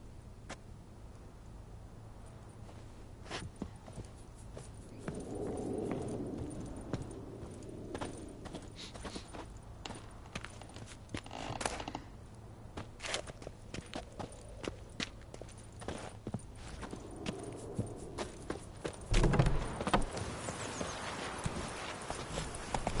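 Geralt's horse Roach from The Witcher 3 clip-clops along in a steady rhythm of hoofbeats, moderately close, with faint ambient game sounds and no talk over it.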